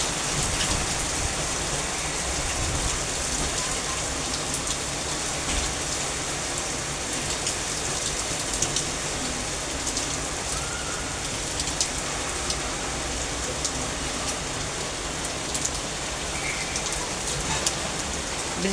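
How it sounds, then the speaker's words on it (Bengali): Heavy rain pours down continuously, a dense, even hiss of drops hitting surfaces close by, steady throughout with no voices. "কত জোরে বৃষ্টি আসছে"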